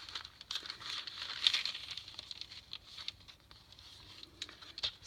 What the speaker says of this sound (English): This is deli paper.